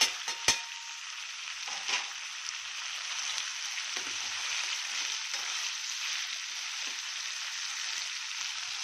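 Spices frying in a pan, a steady, fine sizzling hiss close up, starting with a couple of sharp knocks and then holding evenly to the end.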